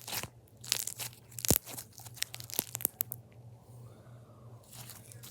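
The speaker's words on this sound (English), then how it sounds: "Make it do a nice crunch for y'all." Clear bead-free slime is squeezed and pressed by hand, giving a series of crisp, sticky crunching and crackling pops up close. One pop is sharp and loud, and softer squishes follow.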